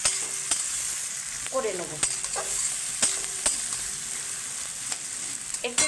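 Okra masala sizzles steadily in a wok as it is stirred and flipped, with repeated scraping knocks of the spatula and a brief spoken word near the end.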